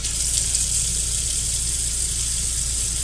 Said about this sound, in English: the reason why I wanted to do that is so you could see that the water pump does work.